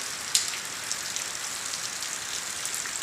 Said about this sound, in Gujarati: આજનો વરસાદ પાછો ચાલુ થયો